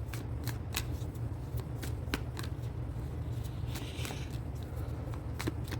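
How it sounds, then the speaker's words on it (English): Cards riffled and shuffled close up, a series of crisp fluttering bursts at irregular intervals over a steady low hum, with no voices. "Let me shuffle these cards back up."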